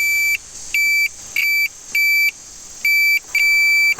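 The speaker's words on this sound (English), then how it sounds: "Got the multimeter and I have it set to continuity. So as long as the fuse is good," Repeated continuity beeps from a multimeter testing a car fuse in a Land Rover LR4, about eight steady high-pitched tones of uneven length with short gaps, loud and close over faint background hiss.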